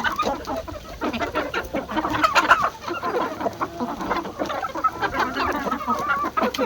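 Several chickens and young roosters cluck and squawk close by in a busy, overlapping chorus, with no talking.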